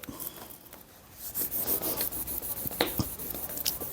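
Soft rubbing and scratching of an eraser across a surface, quiet and irregular, with a few sharper scrapes near the end.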